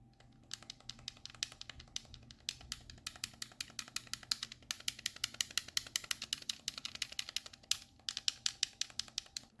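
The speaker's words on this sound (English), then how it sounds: "The letters are printed in the buttons instead of the shell, and they are super loud and clacky." Rapid, loud clacky button presses on an 8BitDo Pro 3 game controller, a close, dense run of sharp plastic clicks in quick irregular bursts, with no talking.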